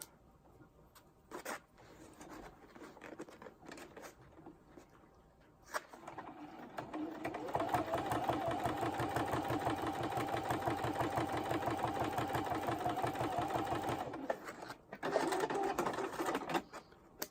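A sewing machine stitches an outline around pineapple top pieces on a quilted acrylic-painted artwork, starting with short stops and starts and then running steadily for several seconds with a fast, close, rattling hum.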